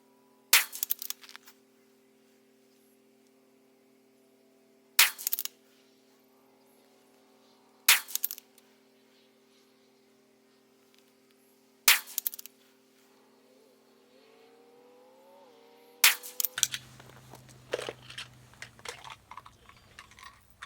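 Five single shots from a CZ 457 rifle firing CCI hollow point ammunition, each a sharp loud crack followed by a brief ring-out, spaced several seconds apart over a steady low hum, then clattering handling noise at the end.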